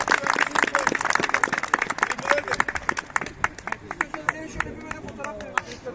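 A group of people clap in a fast, uneven burst at a sports press gathering, loud and close at first, then thinning into scattered claps as voices talk and chatter underneath.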